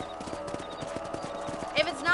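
Horse hooves clip-clop at a steady trotting rhythm in the Western video game Red Dead Redemption, close and moderately loud, ending in a brief whinny-like snort, with a voice talking over it.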